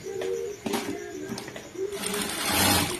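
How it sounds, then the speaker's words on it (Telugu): A sewing machine stitches a long seam along a strip of folded fabric, with a steady mechanical whir in short runs that rises louder toward the end. "దాన్ని ఫోల్డింగ్ చేసి పొడుగ్గా స్టిచ్చింగ్ వేసుకోవాలి."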